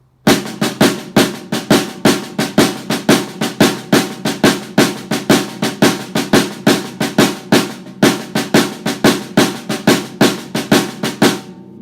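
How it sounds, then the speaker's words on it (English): Snare drum playing a cascara pattern in an Afro-Caribbean rumba clave groove, right hand carrying the accented pattern while left-hand ghost notes fill the gaps; steady, evenly spaced close strikes with no talking. "Coskata with the right hand, ghost notes filling in the empty spaces"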